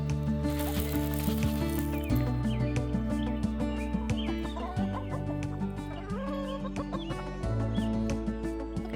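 Farm hens cluck and chatter continuously at close range during evening chores, a busy overlapping flock sound with sharp individual calls and a steady low drone beneath.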